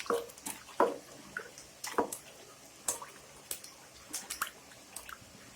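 Tamarind squeezed and dissolved in water by hand for a garlic fish curry, giving soft wet squishes and drips in an irregular rhythm, close but quiet.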